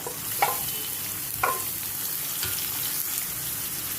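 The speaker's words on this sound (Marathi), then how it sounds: "लसूण थोडी लालसर होत आली तर आपण कांदा आणि कढीपत्ता घालून घेऊया" Garlic, onion and curry leaves fry in a pan with a constant close sizzle, punctuated by a few soft stirring scrapes at intervals, and no one speaks.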